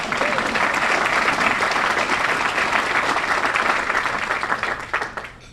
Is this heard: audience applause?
yes